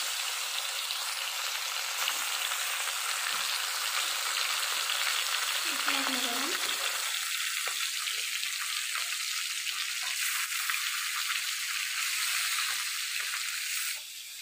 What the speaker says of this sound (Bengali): পুঁটি মাছগুলো ভেজে নেই।